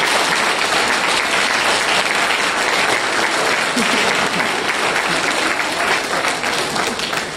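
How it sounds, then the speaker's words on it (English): A convocation audience claps together in sustained, dense applause that holds steady and loud for the whole stretch, with a faint wash of crowd noise underneath. "I guess that man deserves a huge round of applause for what he has done."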